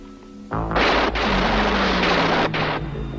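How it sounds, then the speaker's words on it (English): A sustained burst of gunfire in a firefight between terrorists and police commandos inside a building, a loud continuous roar of shots lasting a couple of seconds. "The terrorists open fire on the commandos."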